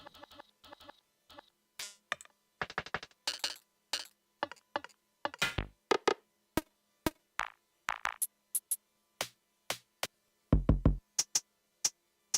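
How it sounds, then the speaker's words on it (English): Short, crisp hi-hat ticks synthesized on a Eurorack modular synth, some in quick clusters and some alone, spaced irregularly and heard clearly with no talking. "Now these sound more like legit hi-hats."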